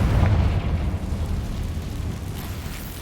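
A Confringo fire spell bursts in Hogwarts Legacy, a sharp booming blast that rolls off into a fading rumble over a few seconds.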